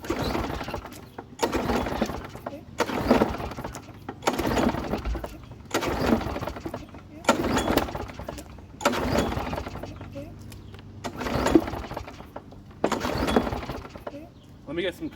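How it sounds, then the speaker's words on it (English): A lawn mower engine's pull cord is yanked repeatedly, about eight ratcheting pulls in a steady rhythm, each followed by a brief pause; the engine never catches. "Might have to give it quite a few primes and pulls"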